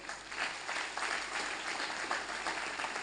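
A crowd at a youth summit in Puducherry applauds with steady, moderately loud clapping that holds at a fairly even level throughout.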